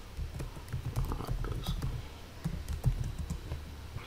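Typing on a computer keyboard while entering Python commands, a quick irregular patter of close, soft key clicks with brief pauses, no voices.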